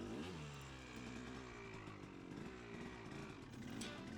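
2003 KTM 250sx two-stroke dirt bike climbing uphill through a narrow slot canyon on loose gravel, its engine buzzing loud and steady with wavering revs that fill the whole stretch, with no talking.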